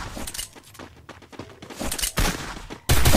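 Gunfire in a Garena Free Fire ranked match comes as sharp, close bursts and rapid volleys with a few brief pauses, ending in a loud sustained blast.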